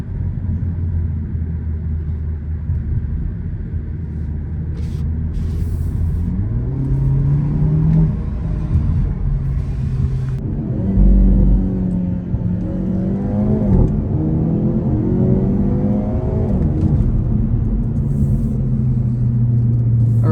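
Cabin noise inside a moving 2024 Hyundai Elantra N: a steady low road and engine rumble with a smooth rise and fall in engine pitch as the car accelerates, loud and continuous.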